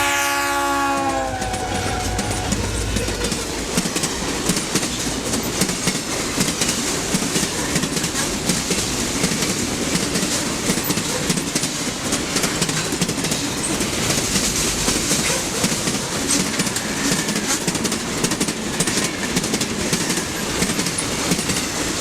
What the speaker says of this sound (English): we catch this eastbound Milwaukee freight with a GP40 leading